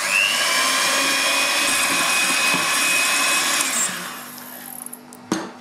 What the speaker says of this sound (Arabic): بالخلاط